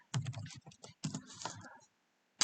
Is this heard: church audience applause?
no